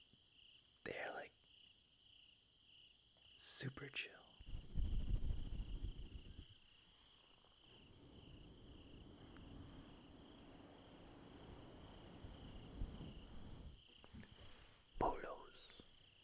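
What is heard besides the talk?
crickets chirping at night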